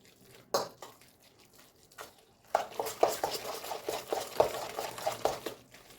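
Wet, sticky squelching and scraping of minced chicken being mixed in a bowl for cutlets, quiet at first, then louder and steady with a few clinks.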